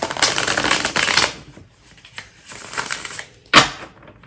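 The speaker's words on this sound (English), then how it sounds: "let me give it one more shuffle here" Tarot cards shuffled by hand, several bursts of riffling and sliding close up with brief pauses and a final sharp snap.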